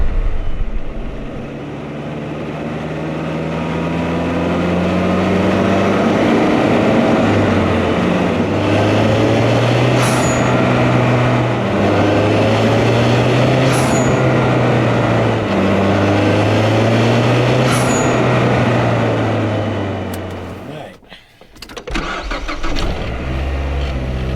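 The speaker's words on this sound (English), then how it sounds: "you like the Cork Sport dual vent to atmosphere blow-off" A 2012 Mazdaspeed 3 fitted with a Cork Sport dual vent-to-atmosphere blow-off valve drives with a loud, steady engine drone rising and falling, and three brief venting hisses at spaced intervals before the engine briefly cuts out near the end.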